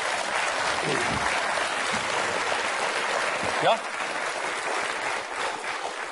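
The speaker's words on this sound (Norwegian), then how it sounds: "Fortjene en applaus for innsatsen." An audience applauds steadily at a Norwegian 50th-birthday celebration, a dense, even wash of clapping that fills the whole stretch, with a brief spoken word rising over it.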